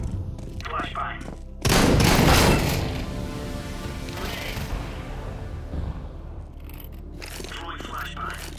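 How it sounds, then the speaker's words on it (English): A flashbang grenade goes off in a video game: one sudden loud blast with a long ringing, fading tail, and voices can be heard before and after it. "Throwing flashbang."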